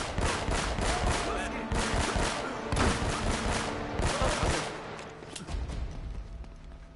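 Rapid machine gun fire from Uncharted: Drake's Fortune, dense repeated bursts rattling loud and close for several seconds before easing off slightly toward the end.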